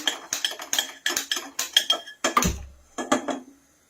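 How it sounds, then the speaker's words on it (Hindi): An iron kadai set down on a gas stove gives a run of close metallic clinks and clatters of cookware, with one heavier knock near the middle, then the sounds taper into quiet. "तो गैस पे हमने एक कढ़ाई रख ली है और इसको हम जला लेंगे।"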